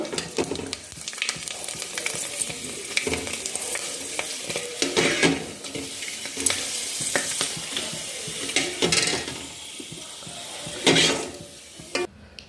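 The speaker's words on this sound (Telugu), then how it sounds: "మీకు చూపించడం కోసం ఒకటి మామూలు వడియం కూడా ఫ్రై చేస్తున్నాను" A plain sun-dried vadiyam fritter frying in hot oil: continuous close sizzling and bubbling with scattered crackles, broken by occasional stirring scrapes in the pan, no voices.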